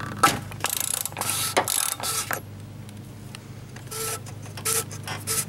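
A socket wrench ratchets in quick clicking bursts on the cap of a cartridge oil filter on a Dodge Avenger, with pauses between runs, close and fairly loud.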